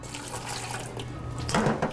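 A little water is poured into a cooking pot lined with sauerkraut, a short, moderately close splash and trickle with a brief louder gush at the end.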